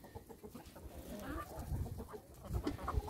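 Chickens cluck softly and intermittently in a farmyard, scattered short calls over low background rustling.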